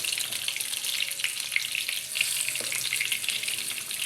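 Chopped green chillies sizzling in hot oil for a dal tadka, a soft, steady crackle and hiss running evenly without a break.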